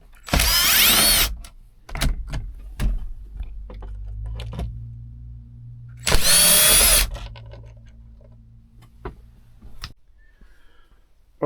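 A power drill backs Phillips head screws out of a dash panel in a Peterbilt 389 truck, with two loud whirring bursts about five seconds apart. Softer clicks and handling noises fill the gaps, close by, with no talk.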